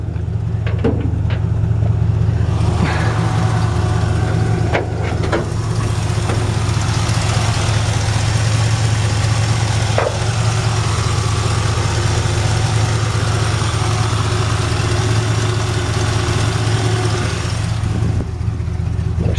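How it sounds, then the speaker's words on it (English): A 1963 Ford F100 pickup with large exhaust pipes idles steadily and fairly quietly, a constant low engine rumble running throughout with no revving. "it's really got kind of a quiet engine."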